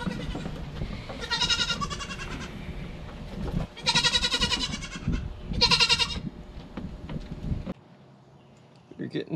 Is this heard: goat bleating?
yes